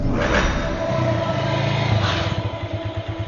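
Car and motorbike engines hum and rev nearby in a continuous traffic drone, with one engine rising briefly before settling.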